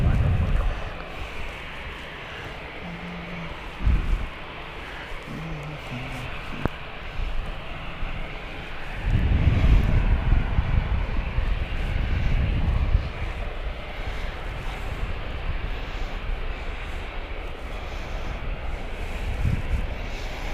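An EasyJet airliner lines up on the runway at Gatwick Airport amid a steady, broad jet engine roar heard from a distance, with rumbling surges and wind buffeting, while someone talks intermittently over it.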